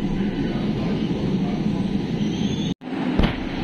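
A Kolkata Metro Orange Line train runs at Satyajit Ray station, a loud steady rolling rumble. The sound cuts out abruptly near the end, followed by a short sharp clank.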